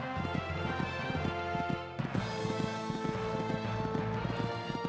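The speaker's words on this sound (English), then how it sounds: "This horse just cantering along this part of the course." A horse canters along a cross-country course at a beginner championship eventing competition, its hoofbeats falling in a steady, even rhythm of repeated clip-clop thuds, fairly close and clear.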